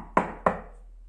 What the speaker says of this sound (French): Mathéo s'avance et frappe à la porte.